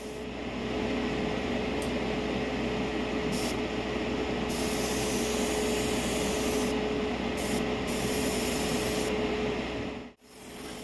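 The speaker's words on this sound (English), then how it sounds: "Then I airbrushed 2 final wet coats of 2K clear." An airbrush sprays 2K clear coat onto a vintage Tamiya Nissan Primera JTCC model body, a steady close hiss with a few brief pauses and a short cutoff near the end.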